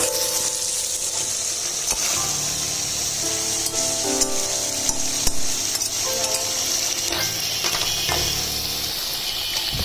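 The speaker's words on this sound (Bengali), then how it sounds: "এক পাশে চিংড়ি মাছ ভুনা হচ্ছে, আর এই পাশে হচ্ছে মাংস ভুনা করা হচ্ছে।" Shrimp and beef frying side by side in a pan for bhuna, with a steady loud sizzle throughout and repeated clinks and scrapes of utensils stirring, no talking.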